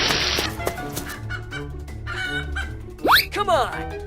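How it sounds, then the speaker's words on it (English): A cartoonish chicken in a river crossing animal riding game clucks and squawks near the end, following whooshes and rising game effects, with cheerful music beneath. "Chicken."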